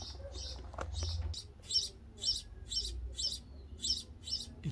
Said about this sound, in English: Little birds were born in that hole of ventilation.